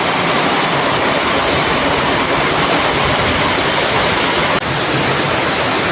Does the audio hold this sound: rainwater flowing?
yes